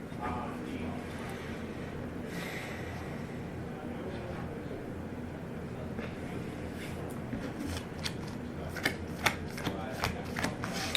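A deck of Star Wars Destiny cards is cut and shuffled at a tabletop game. The soft, quiet riffling runs under low chatter, and a few sharp card snaps come near the end.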